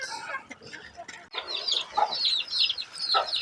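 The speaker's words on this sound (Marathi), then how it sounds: "हे बघा हे आत्ता इथे एवढ्या कोंबड्या आहेत" Several chickens, including fighter, Aseel and country breeds, cluck and squawk nearby in a busy, continuous chatter, with occasional sharper calls rising above the flock.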